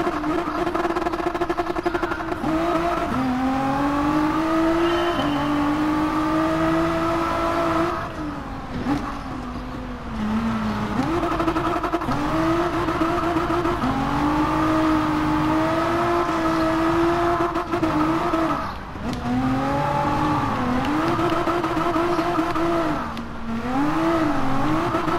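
Car engine and tyres in Gran Turismo Sport during a driving school event, the engine droning steadily and rising and falling in pitch with repeated revving and gear changes, loud and continuous throughout with brief dips.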